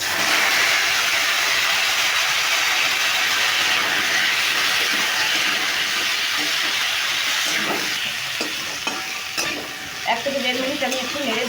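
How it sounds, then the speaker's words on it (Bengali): Pieces of raw mango hitting hot mustard-seasoned oil send up a loud, steady sizzle close by, easing slightly toward the end as a few stirring scrapes come through. "এবার দিয়ে দিচ্ছি আমগুলো কেটে রাখা আমগুলো"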